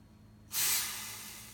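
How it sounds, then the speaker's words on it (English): Cooking spray hisses onto a waffle iron in one sudden close burst that tapers off slowly, preceded by a quiet kitchen. "Going to spray the top and then spray the bottom."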